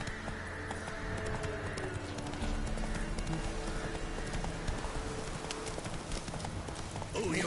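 Roach the horse galloping in The Witcher 3, a steady, close clip-clop of hooves under busy game sound with a voice in the mix.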